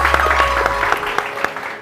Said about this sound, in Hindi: इसलिए मैं काशिफ महमूद के लिए बहुत सारी तालियां।